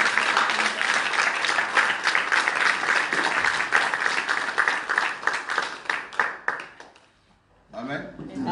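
A church congregation applauds, dense sustained clapping and crowd noise filling the space, easing and thinning out near the end with a brief lull before voices return.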